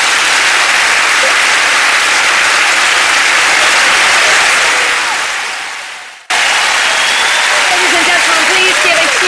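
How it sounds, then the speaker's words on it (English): Loud, dense applause from a large audience at a cancer centre surprise event, sustained for about six seconds, cutting out abruptly, then resuming at full strength with faint voices underneath. "Huge round of applause to Michelle and also the inspirational Sharon Fox."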